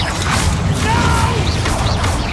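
The Confringo blasting spell fires in Hogwarts Legacy: a loud dense burst with whooshing and crashing impact over constant game combat noise, all packed into a couple of seconds.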